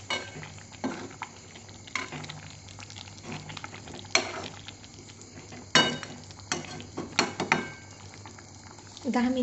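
Chicken curry simmers in a covered pot with half a glass of added water, giving a steady low bubbling and soft sizzle punctuated by occasional clinks and knocks.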